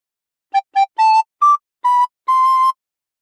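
A recorder plays the opening phrase of We Wish You A Merry Christmas: six clear, close whistly notes, two short taps, then longer held tones, ending on a sustained note before silence.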